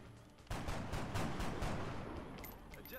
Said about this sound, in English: Fire a rocket into them.